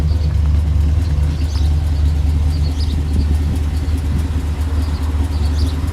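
A modified Pontiac G8 GT engine rumbling steadily at idle, close and loud, with a deep continuous low drone and no talking.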